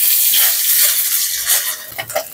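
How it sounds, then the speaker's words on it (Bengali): Small fried fish go into hot oil in a wok with panch phoron and dried red chillies, setting off a loud, close, roaring sizzle that eases slightly toward the end. "এই কড়াই তেলে আমি 5 ফোড়ন শুকনো লঙ্কা দিয়ে দিচ্ছি।"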